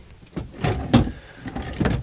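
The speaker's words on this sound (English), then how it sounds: "Lift that drawer up and then it comes out easy." A drawer in a 2005 Tiffin Allegro Bay 34 XB Class A motorhome is lifted and slid out, making a few short scraping, knocking bumps at close range with no talking.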